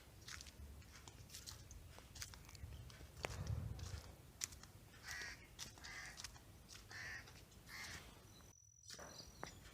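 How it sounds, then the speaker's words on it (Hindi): Birds call from the trees in an outdoor orchard setting during a jujube-picking outing, with scattered chirps and short calls at moderate distance over a steady background rustle. "दरख्तों से परिंदों की आवाज़ें आ रही थीं"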